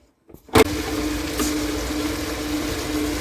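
After a brief clatter, a kitchen mixer grinder kicks in and settles into a steady whirring grind, loud and close, running continuously.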